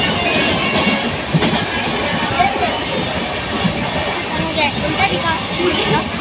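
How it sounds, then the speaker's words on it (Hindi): A moving train heard from inside a carriage: a loud, continuous rumble with rhythmic rattling and clatter, steady throughout, with voices faintly mixed in. "तो अभी ट्रेन में हम लोग बैठे हैं, सफ़र अभी लंबा है"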